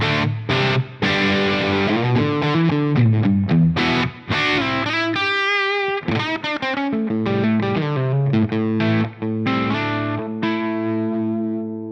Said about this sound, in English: this is what this amp and cab combination with the mic that I showed you sounds like